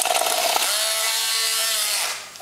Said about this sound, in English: I think it's time for a new DeWalt drill.